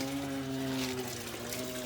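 Water trickles and drains out of an ABS Judge rotisserie smoker during cleaning, a soft, steady liquid dribble heard close up over a faint steady hum.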